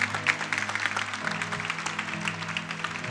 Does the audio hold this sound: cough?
no